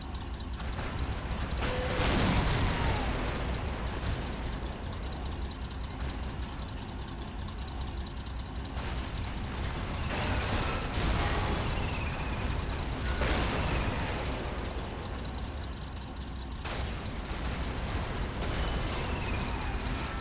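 Tank cannons boom in a video game battle between 50 Shermans and 10 Tigers, with repeated heavy blasts and sharp reports scattered over a steady rumble of idling tank engines, loud and continuous throughout.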